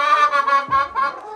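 A chicken on a small farm clucks in a quick run of short, close calls with a brief pause midway, loud and alone with no talk.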